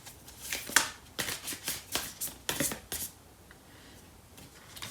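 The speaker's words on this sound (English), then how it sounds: "the first card I'll be pulling out is a card" A tarot card is drawn from the deck: a run of close, crisp papery slides and flicks, about eight quick brushing strokes in a row, then a quiet stretch, with no voices.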